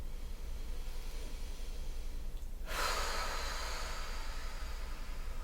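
During a calm full-body yoga flow, a single long, breathy exhale swells in partway through, soft and close, over quiet room hiss, with no talking.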